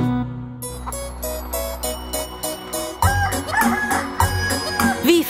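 Rooster crowing within a German children's Easter song, sung over a busy musical backing with voices and instruments; the crow-like calls rise out of the song's melody rather than standing alone.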